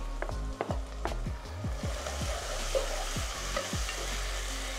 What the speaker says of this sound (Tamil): தக்காளி சேர்த்த பிறகு ஒரு 3 நிமிஷம் வதக்கணும்